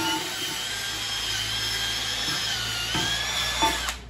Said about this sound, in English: we're going to take a wire wheel to the inside, out the barrel where the tires mount up for the bead